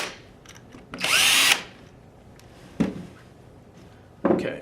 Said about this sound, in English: I'm going to be using my drill with a 1/8 bit just to kind of speed things up a little bit